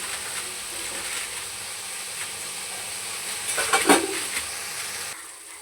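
Green chillies and onions sautéing in a pan for a village-style country chicken curry, a constant hissing sizzle with a short burst of louder crackling and scraping near the end, no speech.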